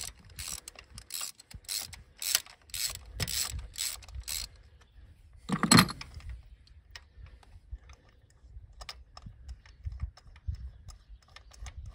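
Hand ratchet working spark plugs loose on a Vauxhall 1.4 Ecotec engine, rapid close clicking bursts in the first few seconds, a sharp louder crack near the middle, then scattered light metallic ticks and taps.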